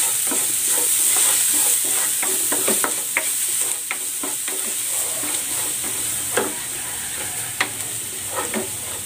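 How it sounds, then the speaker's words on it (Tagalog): Garlic sautéing in a hot pan as the base for a pork stir fry, giving a steady loud sizzle with scattered pops and crackles throughout. "Magigisa na ako ng bawang."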